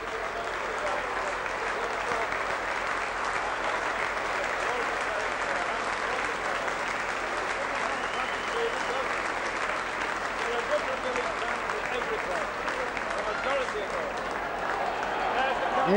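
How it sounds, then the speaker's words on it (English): Sustained, even applause from a large crowd at the Wigan v Warrington Lancashire Cup rugby league final, a broad, distant roar of clapping that continues unbroken for around sixteen seconds at a steady level. "Good-natured applause."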